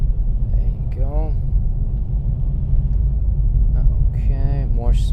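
A low 2022 Hyundai Veloster N with a DCT gearbox driving on a snowy road at night, its steady deep engine and road rumble filling the cabin while a voice speaks briefly over it.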